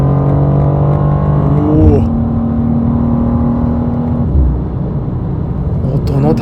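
A BMW M2 G87 pulls hard on a highway, engine note climbing through the revs, then a sharp upshift drops the pitch before it rises again, with a second shift near the end, all loud and close inside the car.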